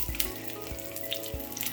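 Quiet, steady sizzling of spring rolls frying in a pan over medium-low heat, with a few soft low knocks scattered through.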